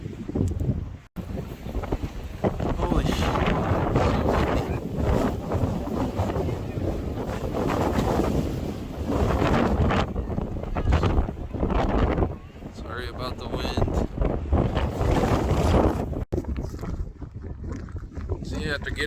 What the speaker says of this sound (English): it was cold and windy